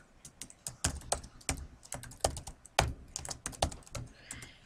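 Steady computer-keyboard typing while entering text into a three-panel brochure layout: many sharp, irregular key clicks close up, some spaced and some quick runs, with no voices.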